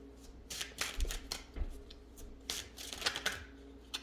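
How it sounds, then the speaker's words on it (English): Tarot cards being shuffled and pulled from the deck in quick, crisp riffling bursts close to the microphone, with brief pauses between flurries. "Let me pull the rest of the cards."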